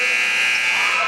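A loud, sustained electronic game-clock buzzer sounds at a high school basketball game, marking the end of a quarter and ringing steadily throughout.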